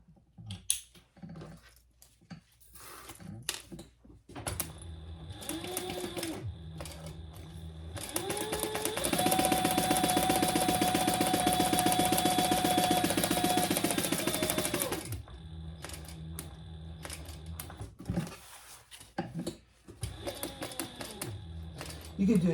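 A sewing machine stitches the box on a tote bag, running in short bursts at first, then one long steady loud run in the middle before stopping and starting again in shorter runs.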